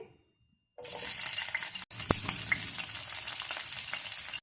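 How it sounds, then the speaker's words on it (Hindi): Chopped onions dropped into hot oil in a pan for dum aloo, bursting into a loud, steady close sizzle after a brief silence, with a sharp clink partway through and no talk. "इसी तेल में 1 चम्मच तेल का और डाल दूंगी और ये गर्म हो चुका है। प्याज डाल देंगे।"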